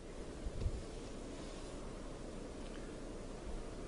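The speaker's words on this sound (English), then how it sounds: "it's very windy today, you can probably hear that" Steady wind blowing across the microphone, a constant low rumble with soft gusts and no voices.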